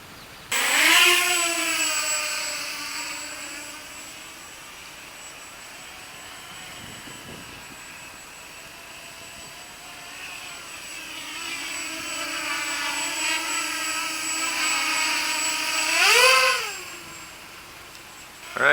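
Walkera Runner 250 race drone flying line of sight in light wind, a loud, steady high-pitched motor whine that drops back, then rises and surges again as the quad passes close, with no voices.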